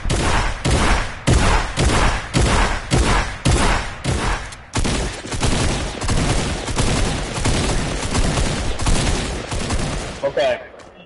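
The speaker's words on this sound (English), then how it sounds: "Shoot all your guns until you have one bullet in each gun." Rapid bursts of gunfire in the video game Fortnite, loud repeated volleys in quick succession with short gaps, then sustained shooting that tapers off near the end.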